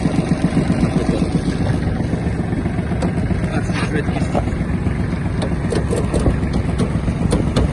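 A small diesel engine of a Kubota GL-241 Japanese mini tractor with PTO engaged runs steadily at close range, a constant low rumble with mechanical clatter and faint metallic ticks, with no talking.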